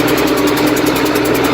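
A tractor engine idles close by with a steady, throbbing low rumble and a faint rhythmic knock, constant and loud with no voices.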